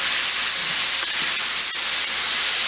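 Boiled Maggi noodles are mixed with Schezwan sauce in a hot pan. A loud, continuous steamy hiss fills the clip, broken by a few soft knocks, with no speech.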